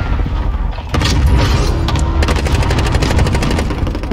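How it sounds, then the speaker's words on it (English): Gunfire in the video game Call of Duty: Warzone comes as loud, rapid automatic bursts and repeated shots with heavy booms, continuing throughout and heard alone. "Shooting at me!"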